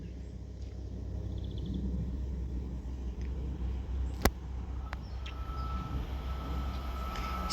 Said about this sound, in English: Now passing through is going to be an Avanti West Coast Class 807